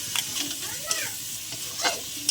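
Ginger garlic paste sizzles in hot ghee and oil as it is stirred, with a steady close frying hiss and a few sharper scrapes of the spoon against the pan.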